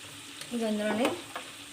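Chicken for chicken pickle fries in a pan with a soft, continuous sizzle. Light stirring clicks and a short, squealing tonal sweep from the pan rise briefly above it.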